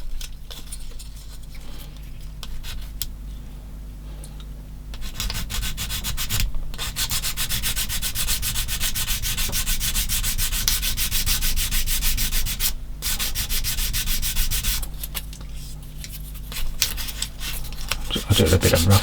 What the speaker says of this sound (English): In fact, it might be easier with a bit of sanding stick.